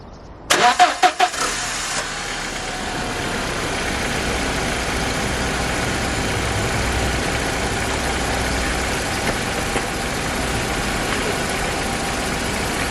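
A restored 1999 barn-find car cranks and catches with a few sharp bursts, then settles into a steady, fairly loud idle that runs on alone for the rest of the stretch.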